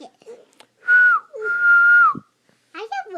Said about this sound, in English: You want to hear my whistle?